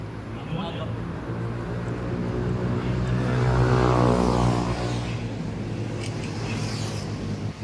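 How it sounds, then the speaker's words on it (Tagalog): Jeep passing along a street, a rumbling engine that swells to a peak midway and fades away, heard under nearby conversation. "May dumaan na jeep"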